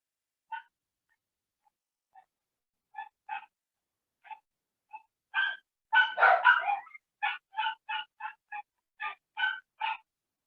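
Several dogs barking in scattered single yelps that build into a dense, overlapping volley of barks near the middle, then continue as repeated close barks; no talking.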